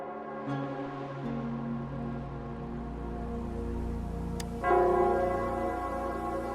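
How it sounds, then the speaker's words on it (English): The Nell Squares bell in the video game Wuthering Waves tolls with a deep, resonant, sustained ring that hangs in the air, then a fresh strike lands near the end and swells the tone again. "it's the Nell Squares bell"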